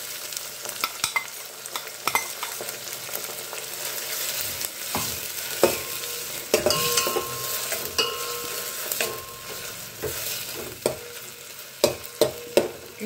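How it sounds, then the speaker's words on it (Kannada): Finely chopped tomato fries in a pan for dal, with a continuous sizzle under frequent clattering stirs and scrapes of a spatula against the pan. "ಇವಾಗ ಇದಕ್ಕೆ ಸಣ್ಣದಾಗಿ ಹೆಚ್ಚಿರೋ ಟೊಮೊಟೊ ಹಾಕ್ತಾ ಇದ್ದೀನಿ."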